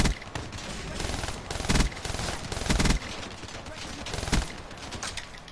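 Call of Duty: Black Ops 3 machine gun fire, loud rapid bursts rattling in quick succession with short gaps between volleys.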